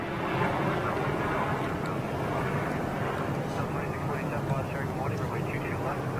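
Small FedEx aircraft at Boston Logan airport, a steady distant engine drone with broad rushing noise, voices talking faintly over it.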